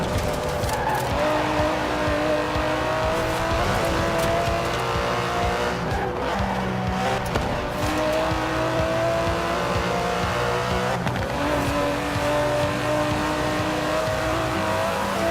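An Aston Martin DB11 with a 5.2-litre twin-turbo V12 drives in Forza Horizon 4, its engine droning and revving steadily with rising and falling pitch, tires squealing now and then, loud and continuous throughout.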